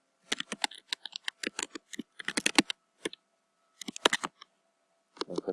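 Someone types on a computer keyboard, producing quiet, close, crisp key clicks in short uneven bursts separated by brief pauses, with no talking over them.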